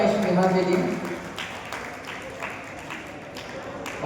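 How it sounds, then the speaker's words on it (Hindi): Applause for a performer named Sneha at a cultural stage event, a moderate, spread-out patter of clapping that follows a voice at the start. "एक बार जोरदार तालियां स्नेहा के लिए।"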